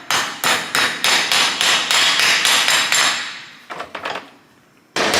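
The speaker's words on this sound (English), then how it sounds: "I'm gonna hit it with the hammer directly on the punch." A hammer strikes a metal punch while replacing a wheel bearing and brake parts on a Volvo, in a quick, regular series of loud ringing blows, then a pause, a few scattered taps, and one final strike.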